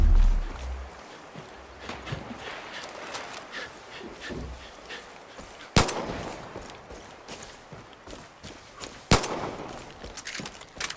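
Gunshots fired into the air in the video game Far Cry 5: two sharp, loud reports stand out several seconds apart over a busy layer of game ambience, with no talking.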